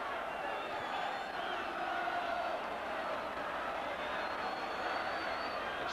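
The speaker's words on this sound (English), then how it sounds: "it's given the home crowd good reason to cheer" Home football crowd at Halifax Town's ground cheering a goal against Tottenham Hotspur, a steady broad roar of many voices sustained throughout at a distance.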